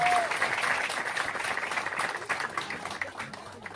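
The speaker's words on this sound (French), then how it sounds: "Il y a vos amis qui vous applaudissent." Audience applause fills a conference hall at a send-off ceremony for Umrah pilgrims, a steady, dense wash of clapping that holds for several seconds and slowly thins toward the end.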